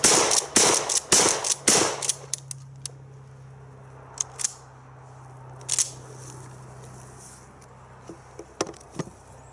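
A Remington 870 pump shotgun fires a rapid string of loud, sharp blasts close by, with quick metallic pump clatter between them. Scattered clicks and clacks follow as the firing stops, then the scene goes quieter.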